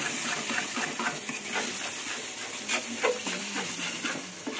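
Masala sizzling and frying in hot oil in a pan on a gas stove, stirred continuously with scrapes and clicks of the spatula over a steady close hiss, with no voices.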